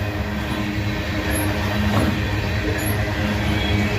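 A heavy, fully loaded coal freight train rumbles steadily past, with a continuous low roar of wheels on rails and faint squeals rising above the din.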